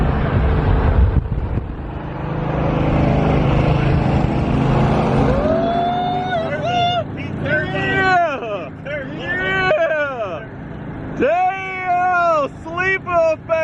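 Loud car engines rev and roar at close range as cars race, one spitting flames from its exhaust, with excited voices and shouting over the engine noise.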